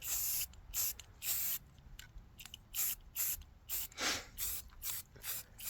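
Repeated short bursts of a brown spray paint can hissing close by over green gear, about a dozen quick sprays in an irregular rhythm with brief pauses between them.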